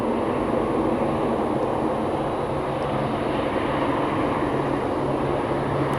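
A Silver Airways airliner lands on runway 28, heard as a continuous loud broadband engine roar and rumble that stays steady throughout, with no voices.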